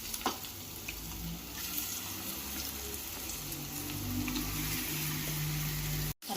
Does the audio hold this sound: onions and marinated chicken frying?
yes